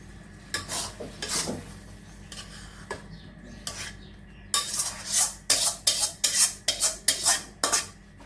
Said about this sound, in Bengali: আগে থেকে সিদ্ধ করা মশলার ঘন্ট হয়ে গেছে এখন ঢেলে নেব